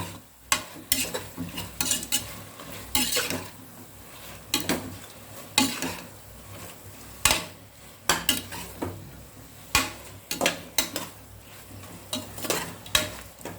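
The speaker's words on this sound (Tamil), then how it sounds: "வெங்காயம் தக்காளி நல்லா வதங்கிருச்சு சிக்கனை போட்டு நல்லா இது பண்ணிக்கலாம் நல்லா வதக்கிக்கணும்" Chicken stirred and sautéed with softened onion and tomato in a pan for chicken biryani, with repeated scraping strokes of a spoon against metal over a low sizzle, in an even rhythm with no speech.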